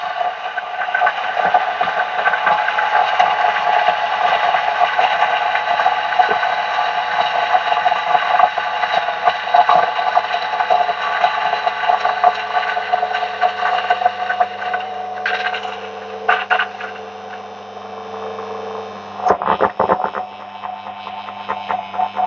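An electric coffee grinder runs continuously, grinding a full single dose of espresso beans with a steady, loud motor whir. It sounds close and unbroken for about twenty seconds, with a brief rattling change near the end.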